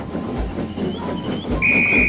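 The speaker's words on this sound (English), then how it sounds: "Oh, that's my guard's whistle." A guard's whistle blows sharp and shrill near the end, over a rumbling, rolling train and a brief higher tone earlier.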